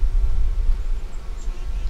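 Honey bees humming low and steady around an open hive full of honey and nectar stores, a continuous close buzz with slight swells and no clear voices.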